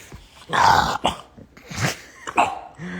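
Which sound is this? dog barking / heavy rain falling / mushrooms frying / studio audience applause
dog barking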